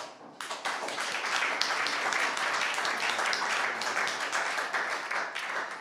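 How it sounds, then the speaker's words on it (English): A studio audience applauds the guests of a talk show with dense, continuous clapping that starts abruptly and holds at a steady level throughout. "our first two guests, and give them a big applause, are Heiko Barnersoy of City Car"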